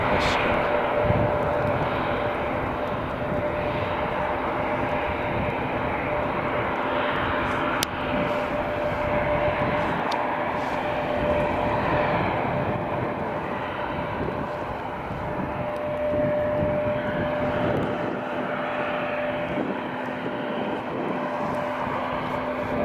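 An Estonian-liveried Airbus A220 airliner at Riga International Airport in freezing, snowy weather, a steady loud jet engine drone with a faint tonal whine throughout, and a voice speaking over it.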